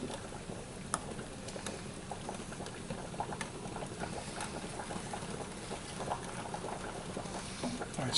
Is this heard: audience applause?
no